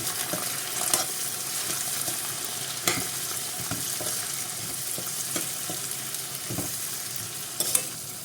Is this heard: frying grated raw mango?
yes